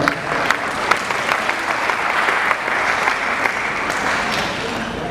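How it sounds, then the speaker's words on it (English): An audience claps for President Mandela at a foundation event: dense, sustained applause at full strength throughout, with faint crowd murmur beneath. "let's really thank and give a round of applause to President Mandela"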